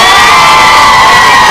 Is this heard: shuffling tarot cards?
no